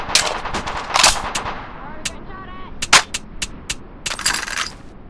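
Gunshots from a VR shooting video game crack out in sharp bursts, some single and some in rapid clusters, with ringing tails and a brief whistling tone between them. No talk.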